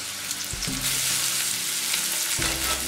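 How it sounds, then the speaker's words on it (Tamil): Onions and green chillies fry in a pan with a loud, continuous sizzle. Low stirring knocks sound close by, and a brief clatter comes near the end. "வெங்காயம் வந்து பொரிச்சு வரும்போதே நம்ம கேரட்டும் பட்டாணியும் சேர்த்துக்கலாம்"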